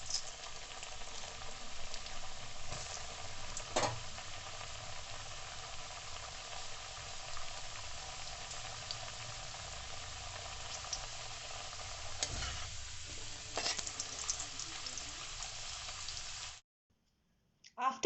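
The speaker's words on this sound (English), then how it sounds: "We need to fry the potatoes in a low or medium flame" Potatoes cut for homemade Indian-style french fries frying in hot oil over a low to medium flame, a steady close sizzle and bubbling that runs evenly, then stops abruptly near the end.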